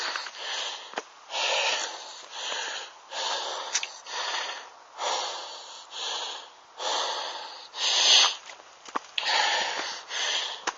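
Heavy, rhythmic breaths from a hiker on a trail, each labored inhale and exhale close and loud, repeating about every second with occasional sniffs and snorts.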